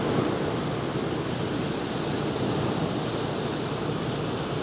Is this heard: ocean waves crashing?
yes